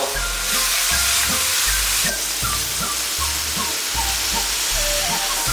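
Deer antler mushrooms are stir-fried in a hot wok, giving a loud continuous sizzle and hiss broken by rhythmic scraping thumps from the spatula tossing them.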